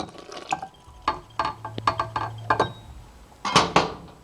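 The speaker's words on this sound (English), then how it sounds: "Add water, yeast, and oil." Water, yeast and oil are poured into a mixer bowl of flour for pizza dough, giving short splashes, drips and clinks in several bursts, close and moderately loud.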